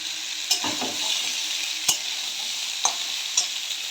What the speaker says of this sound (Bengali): আমি এবার আলুগুলোকে দিয়ে দেব।